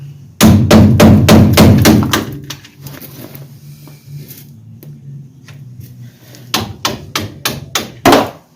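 Sharp metal hammer blows knock out front brake caliper pins on a Ford Ranger in a garage, a rapid burst of about ten loud strikes, a quieter pause with faint clinks, then another fast series of hits.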